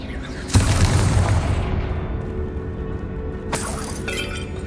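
A Confringo spell exploding in the video game Hogwarts Legacy: a loud shattering boom that rolls off into a rumbling tail, followed a few seconds later by a second, lighter crack.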